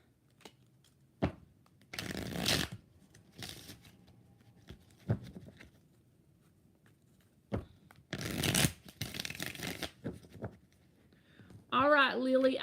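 Tarot cards shuffled by hand in repeated riffling bursts, separated by quieter gaps with a few taps and handling noises, close and fairly loud; a brief rising squeaky tone comes in near the end.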